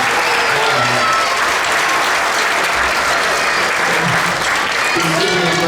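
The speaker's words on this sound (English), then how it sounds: "One more big round of applause." Another big round of applause rises from the middle school band audience, a close, continuous burst of clapping with crowd voices mixed underneath.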